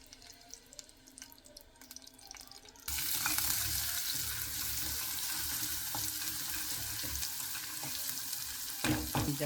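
Garlic hitting hot oil in a pan for an eel fish curry; quiet kitchen noise at first, then a sudden loud, steady sizzle that continues to the end.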